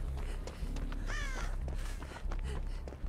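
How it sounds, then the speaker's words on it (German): Crows caw in Dead by Daylight, a few harsh, wavering calls rising over low eerie game ambience with faint footsteps. "die Adler schreien manchmal so komisch rum"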